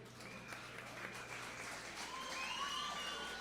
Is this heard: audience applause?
yes